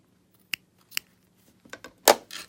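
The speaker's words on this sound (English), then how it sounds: "I'm going to snip this off now so that it doesn't interfere with my piecing." Sharp scissor snips cutting off a fabric tip during quilt block piecing: two isolated clicks, then a quick cluster of close, crisp cuts ending in a louder double snip.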